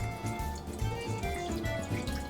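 Water pours into a cooking pot of stuffed artichokes, a soft burbling splash that continues briefly at close range.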